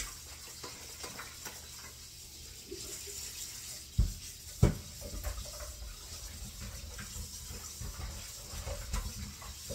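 Tap water runs into a sink while boiled pork bones are washed for sinigang, a steady close splashing stream with a couple of sharp clunks from a pot or bones partway through.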